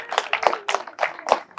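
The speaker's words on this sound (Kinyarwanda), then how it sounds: "Mumumpera amashyi." Wedding guests clapping, a short burst of scattered hand claps at close range, several quick separate hits rather than a full round of applause.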